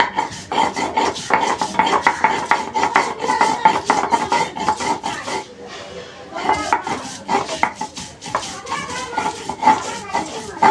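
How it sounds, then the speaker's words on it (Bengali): Ginger being ground together with chili paste on a grinding stone, a dense run of rhythmic scraping and rubbing strokes, loud and close, with a brief pause midway before the grinding resumes. "আদাটা বেটে নেব"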